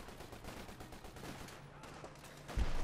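Rapid MG 34 machine gun bursts in Company of Heroes 2 battle rattle as a faint, dense stream of shots, ending with a louder explosive impact.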